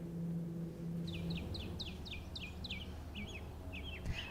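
Several birds call in short, repeated chirps at a campus in Brownsville, Rio Grande Valley, where fantail warblers are seen, a steady series of bright calls over a low background hum.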